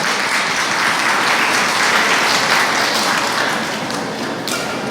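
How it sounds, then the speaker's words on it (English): An audience at a school moving-up ceremony breaks into sustained, dense applause, loud and steady throughout and tapering slightly at the end. "Let us give her a round of applause."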